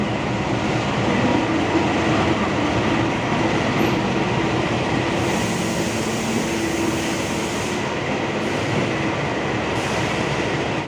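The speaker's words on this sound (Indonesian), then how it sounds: "keretanya sudah berhenti dan susunan kereta ekonomi berada di depan" A passenger train rumbles steadily nearby as it pulls into Pasar Senen station in Jakarta, with a rolling, rattling wheel noise and faint metallic squeals, sustained without pause.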